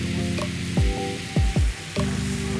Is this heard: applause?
no